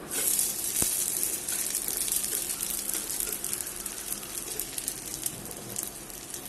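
Semiya batter fries in oil in a pan, giving a steady, close sizzling hiss throughout with small crackling pops and no talk.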